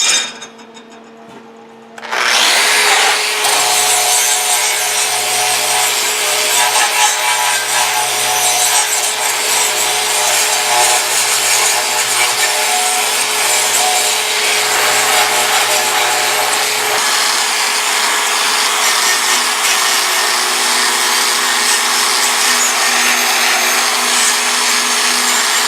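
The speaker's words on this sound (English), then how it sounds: "Now we've wire brushed this area where this pectoral fin is going to go on" A power wire brush scours metal on a metal-art whale sculpture where a pectoral fin will be welded, a loud, steady abrasive whine that starts abruptly after a brief quiet moment and runs continuously with no speech.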